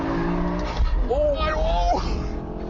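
A BMW M5 (E60) engine roars at high revs on a track as tires squeal briefly in a wavering oversteer skid, with a voice talking over the noise.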